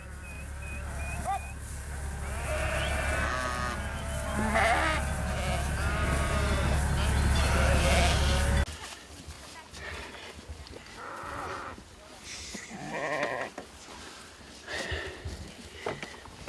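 A flock of ewes bleating on a ranch, several loud overlapping bleats close by over a low steady rumble, then quieter scattered bleats mixed with people talking.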